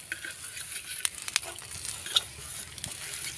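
Masala frying and stirring on a hot griddle as sesame seeds are added, a steady soft sizzle with a few sharp crackles and pops, close and without voices.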